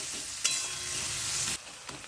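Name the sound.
onions frying over medium flame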